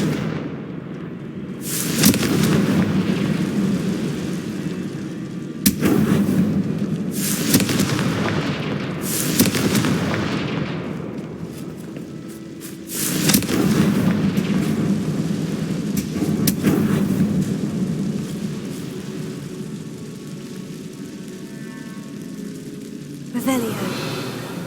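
Confringo explosive spell blasts from the video game Hogwarts Legacy: a series of loud, broadband booming bursts, about five over the stretch, each decaying into rumble.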